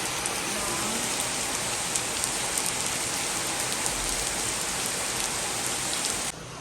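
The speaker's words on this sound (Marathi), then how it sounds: "आमच्या बाबा गॅलरीपर्यंत पाऊस येतो" Steady heavy monsoon rainfall in Pune pattering on a balcony, dense and continuous, with scattered drips standing out before it cuts slightly quieter at the end.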